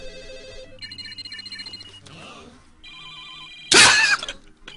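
Phones ringing in an animated Digimon film scene, several electronic ring tones chirping in turn with a louder bright burst near the end, heard under music and effects.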